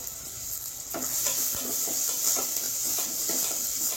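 Curry leaves sizzle in hot oil with softening onions in a pan for prawn and okra sambar, a steady close hiss with a spoon scraping and stirring in short rhythmic strokes, no talking.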